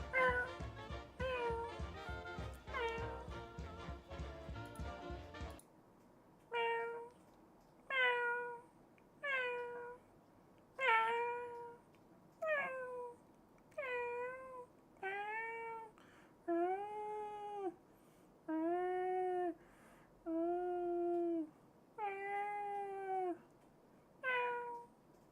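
A person imitates a cat meowing, giving a long series of drawn-out, rising and falling meows one after another, close and fairly loud, after a brief burst of rapid higher cries at the start.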